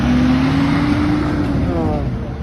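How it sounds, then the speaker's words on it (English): A truck drives past on a road close by, and the loud, broad engine and tyre roar holds steady before easing slightly as it moves away. "We'll let the truck go."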